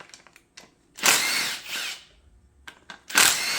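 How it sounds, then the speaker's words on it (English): A power ratchet or drill with a 10mm socket spins valve cover bolts out of a Toyota 3.4L 5VZ-FE V6 engine, giving two loud close whirring bursts about a second long, along with smaller clicks and a faint rattle. "take off these 8 bolts that hold the valve cover on real quick"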